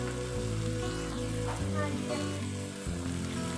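Steady loud sizzling from a hot pan of mustard paste, with a brief burst of bubbling hiss as water hits the oil, continuing throughout.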